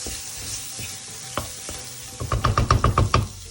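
Cauliflower curry with tomato paste cooks quietly in a pan under a soft sizzle, then a spoon stirs it in a rapid run of scraping knocks toward the end.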